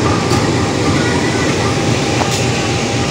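The KA Bukit Serelo passenger train rolls into Lahat station with a steady, loud rumble of wheels on rail, heard from inside a carriage.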